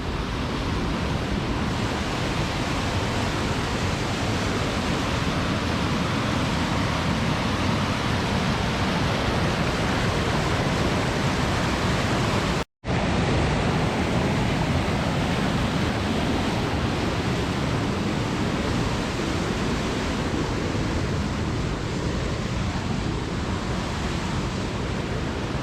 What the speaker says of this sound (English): The roar from the river just adds to it.